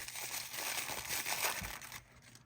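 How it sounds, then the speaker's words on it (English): Crinkly plastic packaging being crumpled and peeled open while necklaces are unwrapped, a steady close rustle with sharper crackles that fades to near quiet near the end. "So let's just unwrap all of these, because they are all unique."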